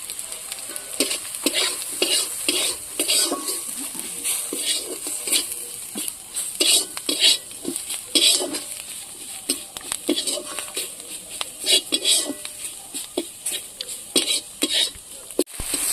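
Carrot, capsicum, onion and other vegetables for a kachori filling frying in a pan, a continuous sizzle broken by repeated rhythmic stirring and scraping strokes, close and fairly loud throughout.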